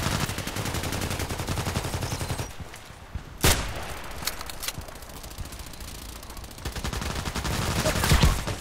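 Suppressed rifle shots in a sniper video game, a few sharp muted cracks, one standing out near the middle, over dense rapid game noise and background clatter.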